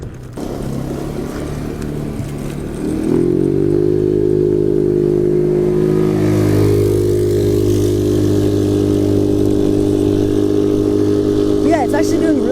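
Modified Razor electric ride-on under way, with a whining motor hum that rises and settles into a steady loud drone after a few seconds, close and continuous, with some rattling.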